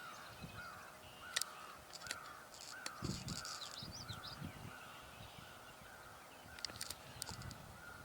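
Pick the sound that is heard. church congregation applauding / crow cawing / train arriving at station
crow cawing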